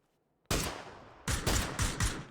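Gunfire rings out during a competitive video game match in the Taco Tuesday League: a sharp opening shot followed after a pause by a rapid cluster of four or five loud, close bursts, with no talking.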